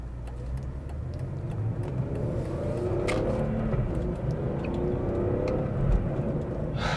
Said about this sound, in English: So I'm gonna turn the ferocity of the gear shifts all the way up.